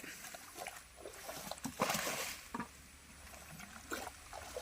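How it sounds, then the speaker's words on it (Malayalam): Water is scooped and splashed out of a shallow pond, heard as faint, intermittent splashes and sloshes in quiet surroundings. "നമ്മുടെ സോമൻ ചേട്ടൻ വെള്ളം കോരി പറ്റിക്കാൻ തുടങ്ങിയിട്ടുണ്ട്"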